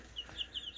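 Gold laced chickens give a few soft, quick clucks and chirps in a backyard coop, faint and close, with quiet background hiss.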